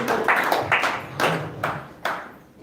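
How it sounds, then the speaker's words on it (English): A handful of separate handclaps ring out at an evening devotional gathering honoring Srila Prabhupada, a sparse, uneven round of applause from the audience that fades toward the end. "Let's give him a round of applause."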